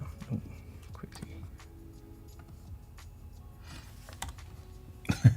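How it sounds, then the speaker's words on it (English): Typing on a computer keyboard in an illustration and branding design session, giving soft scattered clicks and taps at close range among low background noise. "just realised she's been typing with the caps lock key on"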